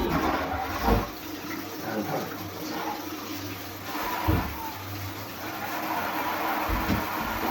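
Yam pieces are rinsed under running water in a home kitchen, with a steady rushing stream and a few louder splashes and knocks.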